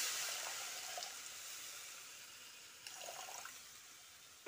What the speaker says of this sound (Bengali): মশলাটা মেশানো হয়ে গেলে এখানে 1 কাপ মতো জল অ্যাড করে দিচ্ছি।